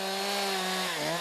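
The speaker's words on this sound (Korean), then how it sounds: "고요한 이곳에 요란한 톱질 소리만 반복된다." Chainsaw cutting branches off felled trees at a Russian logging site, a loud continuous high engine whine that dips in pitch near the end, heard close and alone.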